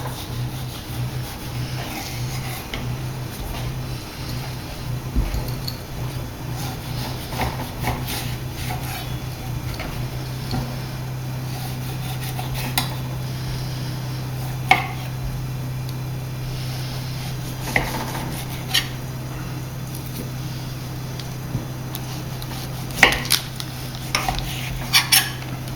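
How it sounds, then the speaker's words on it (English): A knife works the skin off a slab of guanciale on a cutting board, with soft scraping and occasional sharp taps and knocks over a steady low hum of kitchen background noise. "I'm going to start with this recipe by taking off the skin of the guanciale"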